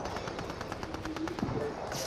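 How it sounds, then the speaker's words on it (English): Faint, rapid Fortnite gunfire rattles in the distance, a continuous stream of small pops under a noisy background. "gunfire is right over the hill from us"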